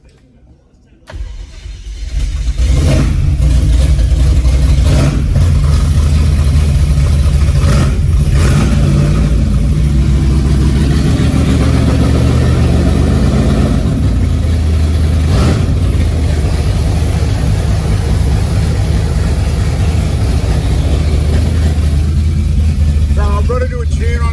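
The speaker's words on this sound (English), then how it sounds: "turned the ignition off, turned the ignition on, she fired up straight away. And she sounds tough, really tough." A car engine fitted with Sniper fuel injection cranks and fires up straight away, then settles into a loud, rough, rumbling idle on base timing, close by, with a few brief rev blips and a voice over it.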